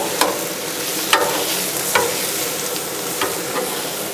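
Onions and noodles stir-frying in a hot pan, a steady loud sizzle with several sharp scrapes of a spatula stirring at irregular intervals, no talking.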